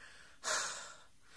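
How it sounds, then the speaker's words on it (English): A single sharp human exhale, a breathy puff of air pushed out through the mouth, close and brief, surrounded by quiet room noise. "I kept doing breaths, just exhales of breath"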